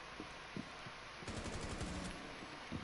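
Gunfire from Hibana's gun in Rainbow Six Siege: a quick burst of rapid automatic shots about halfway through, preceded and followed by a few faint isolated clicks and thumps, at low overall level.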